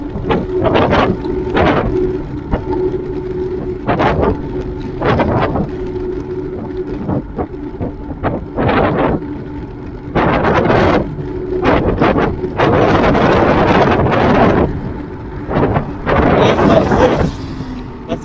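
Gusty wind buffets the microphone during a night ride, in loud, irregular bursts, roaring and rumbling with brief lulls between blasts.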